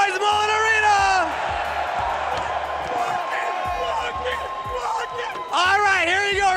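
At Mullet Arena, an esports crowd at the LCS Spring Split Finals whoops and cheers loudly. An amplified voice talks over it, and sustained cries swell at the start and again near the end.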